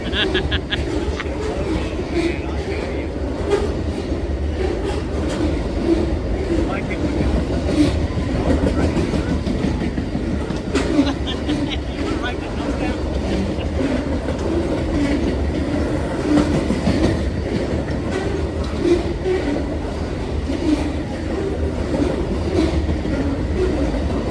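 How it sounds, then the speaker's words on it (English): A train rolls past on the rails, a steady loud rumble with rhythmic clickety-clack that carries on without a break. "How many cars they got on that train?"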